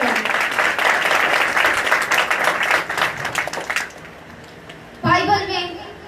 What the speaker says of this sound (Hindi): आइए खुदावंद के जलाल के लिए जोरदार तालियां बजाएं।